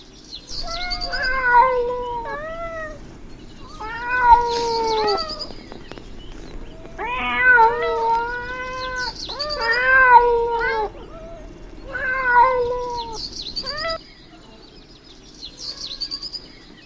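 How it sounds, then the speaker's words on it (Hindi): Cartoon cats meowing and caterwauling in a series of loud, drawn-out wailing calls, several voices overlapping in bursts roughly every two to three seconds over a soft background hum. "बिल में बिल्लियों का लश्कर आ रहा है उठकर"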